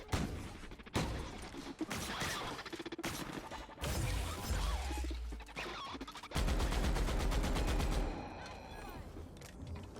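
A shock cannon fires repeatedly in The Outer Worlds, loud crackling bursts and crashing impacts in several long volleys separated by brief pauses, with a voice heard faintly at times.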